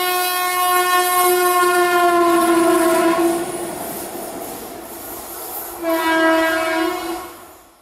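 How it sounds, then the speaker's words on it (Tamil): An electric rail engine running alone on a trial run over a newly electrified broad-gauge line, reaching 80 km/h, sounds two loud sustained horn blasts over a steady rumbling roll of wheels on track. "மின்சார ரயில் என்ஜின் மட்டும் இயக்கப்பட்டு சோதனை ஓட்டம் நடந்தது."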